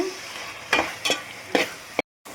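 Onion and tomato sautéing in a pan for a prawn masala gravy, with a low sizzle broken by four distinct spatula scrapes and stirs, ending in a brief cut to silence.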